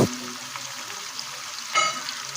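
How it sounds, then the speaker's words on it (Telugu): Onions and green chillies frying in a pan for Andhra-style mutton curry, a steady soft sizzle running throughout with a brief louder stir near the end. "ఆనియన్స్ వేసాక పచ్చిమిర్చి కూడా వేసుకొని బాగా కలుపుకోవాలండి గోల్డ్ కలర్ వచ్చే వరకు"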